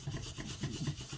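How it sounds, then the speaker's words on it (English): Rapid Fill filler is pushed vigorously into the pores of a wooden propeller blade, a close, quiet, steady rubbing and rasping with a faint rhythmic back-and-forth, alone without talk. "push the rapid fill vigorously into all those pores"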